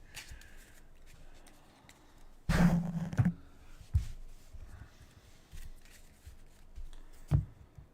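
2024 Topps Series One baseball trading cards are separated from a pack by hand, giving quiet riffling and flicking with one sharp burst of card noise partway through and a few softer taps after it.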